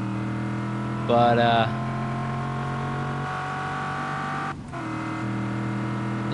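A car drives and revs on a racetrack in the video game Just Cause 3, its engine droning steadily with a sharp rev surge early on and a brief dip later, while people talk over it.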